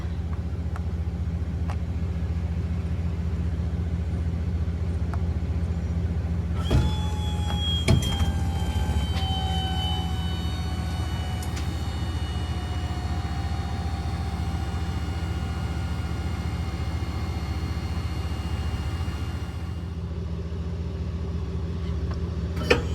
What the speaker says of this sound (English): And now we're gonna retract all jacks.